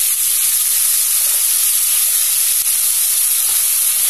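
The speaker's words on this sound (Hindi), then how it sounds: "फिर जिंजर गार्लिक पेस्ट डालेंगे" Ginger garlic paste sizzles in hot oil already seasoned with mustard seeds and curry leaves, a loud, steady hiss that holds evenly throughout with no pauses and no talk.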